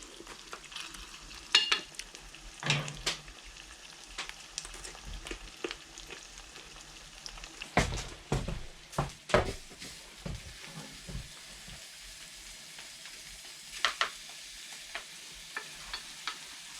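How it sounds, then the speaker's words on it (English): Onions caramelizing in a pan on the stove of a remote fixer-upper cabin: a soft, steady sizzle broken by several louder scraping stirs and clanks of the utensil against the pan. "my onions are getting very close. They're almost caramelized now."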